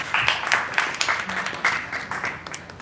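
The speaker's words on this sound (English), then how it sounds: "Make an applause one more time for Union Bank." At a real-estate industry seminar in the Philippines, an audience claps for a bank sponsor; the steady, fairly loud applause continues throughout without speech.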